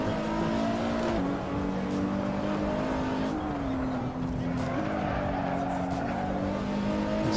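A KTM car is driven in the Assetto Corsa racing game on the Nürburgring, its engine holding a loud continuous buzz that shifts pitch with gear changes and tyre noise, alongside faint talk.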